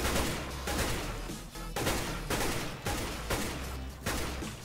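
Rapid gunfire from a first-person shooter, CS:GO, on a custom map: a dense, loud string of shots in bursts with brief gaps, with no talk over it.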